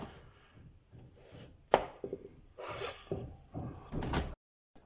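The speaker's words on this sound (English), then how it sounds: "I'll slice some potatoes in about 1 centimetre thickness" A knife cuts potatoes into one-centimetre slices on a cutting board: scattered soft chops and scraping strokes, close and fairly quiet, with one sharper knock against the board.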